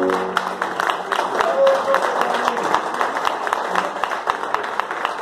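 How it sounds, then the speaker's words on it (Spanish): Applause and clapping from a crowd celebrating a doctor's birthday at a gathering, steady dense claps throughout with voices mixed in. "les pido un fuerte aplauso nuevamente"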